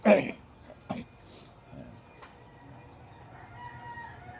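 A chicken squawks sharply a couple of times up close, then quieter clucking and faint background noise follow.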